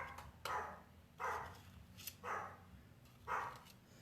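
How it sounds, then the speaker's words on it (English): A dog barks four times at an even pace, moderately loud and somewhat distant, each bark short and sharp over a quiet hum. "can you hear that dog?"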